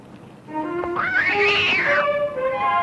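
A cat gives one drawn-out, rising and falling distressed cry after being stepped on, loud and close, lasting about two seconds with faint room noise around it.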